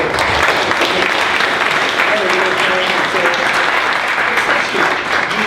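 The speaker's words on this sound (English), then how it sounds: "Quick round of applause." Steady, dense applause from a crowd fills the whole stretch, loud and even with no pause.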